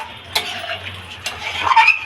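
Ghee stirred in a cooking pan, a soft continuous scraping under a low sizzle with two sharper metallic clinks of the utensil against the pan, close and moderately loud.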